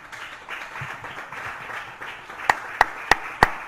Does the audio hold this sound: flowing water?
no